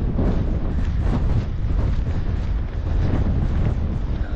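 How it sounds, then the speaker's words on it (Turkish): Strong wind on a mountain road in the Everest region of Nepal roars steadily and loudly, buffeting the microphone with a dense, continuous rumble. "Oh, rüzgar bayağı şiddetlendi ya."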